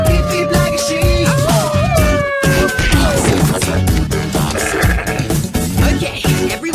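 Several people imitate sheep with loud, wavering bleats and playful calls, overlapping and chaotic against a busy, noisy background.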